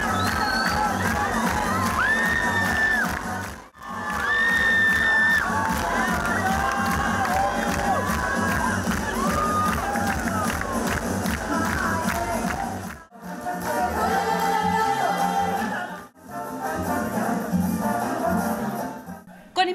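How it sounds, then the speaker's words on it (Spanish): A carnival coronation crowd in Lerma cheers and shouts for the new carnival king and queen after a samba and salsa show, with loud whoops and children's cries in bursts broken by brief cuts, a little scattered clapping mixed in. "Rosita I y John I recibieron los aplausos del público por su comparsa al ritmo de samba y salsa"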